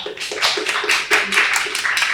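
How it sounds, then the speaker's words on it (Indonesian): Audience at a campus podcast recording claps in a steady, fairly loud burst of separate rhythmic hand claps, evenly spaced and close, with no talking over it. "tepuk tangan semuanya"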